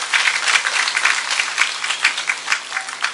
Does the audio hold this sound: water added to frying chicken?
no